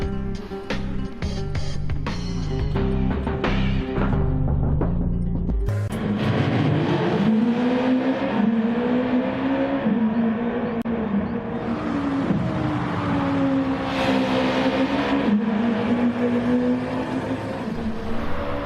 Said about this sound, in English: This is a Group 2 car and has recently been raced by Jenson Button.